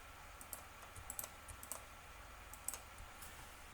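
Faint, sporadic computer keyboard key presses and clicks while unwrapping an R2D2 3D model, scattered irregular taps over a quiet hum with no talking.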